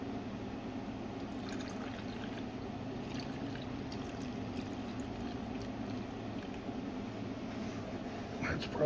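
Water poured into a rock tumbler barrel holding three tablespoons of grit: a steady, faint trickle and splash that runs for several seconds and ends with a brief louder knock.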